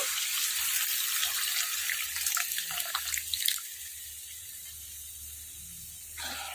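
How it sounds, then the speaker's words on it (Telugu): Tamarind juice pours into a pan of cooked onions for a plantain curry, a steady liquid splash and trickle that runs for a few seconds, then stops, leaving quiet kitchen background. "మనం చింతపండు పులుసు తీసి పెట్టుకున్నాం కదా దీన్ని పులుసు వేసేద్దాం దీనిలో"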